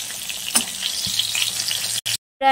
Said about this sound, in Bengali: খিচুড়ির সাথে খাওয়ার জন্য বেগুন ভাজা করে নিচ্ছি